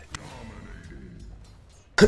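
A single sharp cough-like burst early, then quiet breathy vocal noise, ending with a louder harsh throat-clearing cough.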